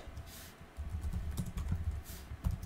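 Quick bursts of keystrokes on a computer keyboard while a command is entered in MATLAB for a Simulink model, close and fairly soft, in an irregular patter with no voices.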